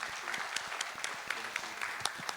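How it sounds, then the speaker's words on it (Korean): Audience applause at a 2019 exercise science symposium lecture, a steady wash of many hands clapping filling the room for a few seconds, with a few sharper individual claps standing out. "큰 박수로 부탁드리겠습니다."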